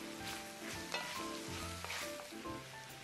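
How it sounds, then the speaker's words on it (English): Eggplant sizzles steadily in a frying pan, with a few soft scrapes and knocks as it is stirred; the frying is continuous and fairly quiet, with no talking. "Now we're going to add the eggplant. Stir a little bit."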